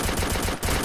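Rapid automatic gunfire in a shooting video game rattles in a tight, loud burst lasting under a second, with a brief gap before the shots resume.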